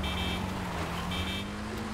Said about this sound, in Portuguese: Ah, tá buzinando.